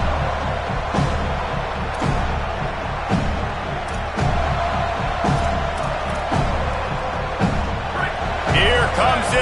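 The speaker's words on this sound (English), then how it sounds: "Here comes this home crowd as the defense tries to get off the field on third down." A home crowd roars steadily in an NCAA football video game, Florida State against Miami, on a third-down defensive stand, with rhythmic thumping and chanting, loud and continuous throughout.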